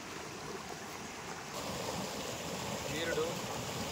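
Water flows steadily from a pond at Panasa waterfalls, a continuous broadband rush that grows louder and fuller partway through, with no voices over it.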